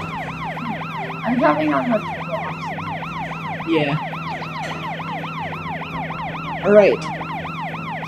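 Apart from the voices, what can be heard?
police car siren in Tonka Rescue Patrol video game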